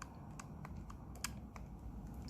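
Quiet typing on a computer keyboard, with scattered light key clicks at an uneven pace and one sharper tap, faint and close with no voices.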